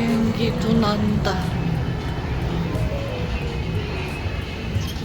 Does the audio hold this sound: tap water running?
no